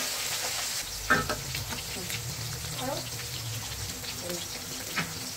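Dry chillies fry in a pan with a steady close sizzle, broken by a few stirring scrapes and clinks.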